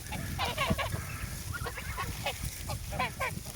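Domestic geese, including a large white breeding goose, honk repeatedly in short nasal bursts, several calls overlapping at a moderate distance, over a low background rumble.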